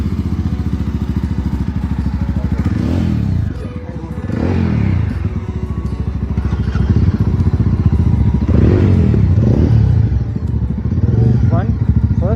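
A Yamaha XT motorcycle exhaust idles loudly up close with a steady rumble, and the throttle is blipped in several sharp revs that rise and fall back to idle.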